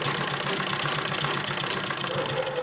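A sewing machine stitching the neck of a kurti, a continuous rapid mechanical whirring with a fast regular needle rhythm, close and fairly loud, running steadily without pause.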